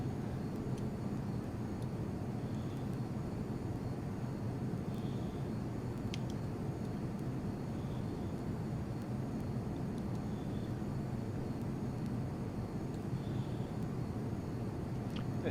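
Steady jet engine drone of an F-22 Raptor on approach in the FSX flight simulator, a continuous loud low rumble with a constant hiss and no change in level throughout.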